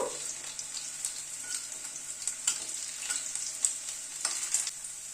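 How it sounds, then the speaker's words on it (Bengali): Boiled potato pieces frying in oil in a pan, a faint steady hiss of sizzling broken by occasional light scrapes and pops from stirring, heard close and quiet with no speech. "আলুটাকে একটু ভেজে তুলে নেব।"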